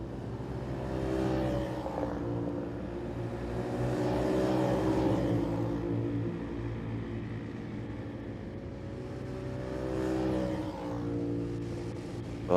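Rotax Max racing karts at a Latvian championship round drive through turns, engines buzzing and revving in a steady overlapping drone that swells and fades as the pack passes, mid-distance and continuous.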